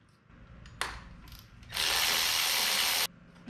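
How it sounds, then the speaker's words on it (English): Ratchet fitted with a wobble extension turning a bolt on a Subaru Outback 2.5 L boxer engine: a short burst of rapid clicking, then a longer steady ratcheting run, close and alone. "There's a handy dandy wobbler to get down inside here."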